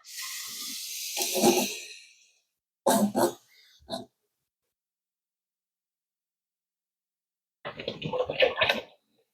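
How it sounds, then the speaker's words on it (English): Water from a tap hissing steadily into a sauce bottle for a couple of seconds, followed by short sloshing bursts as the bottle is handled and shaken, with quiet gaps in between. "I'm going to fill this up with water just to get some more of the sauce out."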